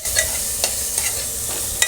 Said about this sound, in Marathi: कांद्याची पात टाकले आणि ती छान लसणाच्या ह्याच्यावर परतून घ्यायची